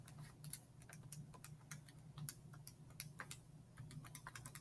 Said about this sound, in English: we can just type that whole thing in the calculator